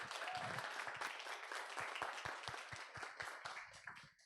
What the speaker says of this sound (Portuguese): Uma salva de palmas para a Anlis